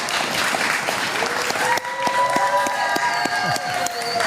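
A large crowd applauds at a political rally with Donald Trump, steady dense clapping that carries on throughout, with a few louder claps standing out near the microphone.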